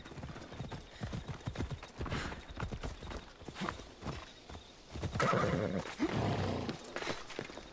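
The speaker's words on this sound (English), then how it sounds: "I'm going to jump on the horse and we're going to get back." A horse in the video game Assassin's Creed Odyssey gallops with steady clip-clopping hooves, then lets out a loud whinny near the end, close and clear over faint game ambience.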